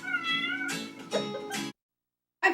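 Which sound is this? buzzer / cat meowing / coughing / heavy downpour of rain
cat meowing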